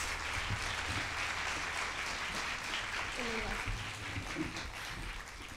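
An audience claps in a theatre at a live concert, sustained and fairly faint, while a voice talks over it.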